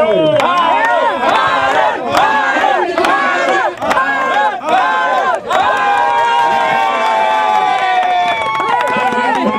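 A crowd at the Llaneros Unidos kermes community fair in 2013 shouts and cheers loudly for the MVP, with many voices rising and falling together in a steady, energetic roar throughout.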